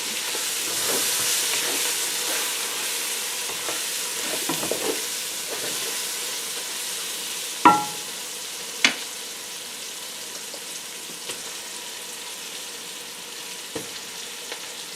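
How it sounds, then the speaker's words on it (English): Beef stew frying in a pot hisses steadily while a utensil stirs, with a few sharp scrapes and clinks against the pot standing out. "Stir this a little bit."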